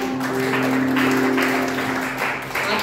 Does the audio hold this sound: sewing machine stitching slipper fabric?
no